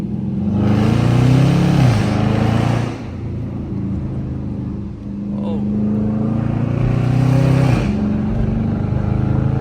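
A loud Dodge Charger R/T with an aftermarket exhaust setup roars as it accelerates onto a highway near a tunnel, two strong revving surges rising and falling over a steady engine drone, with a brief voice between pulls.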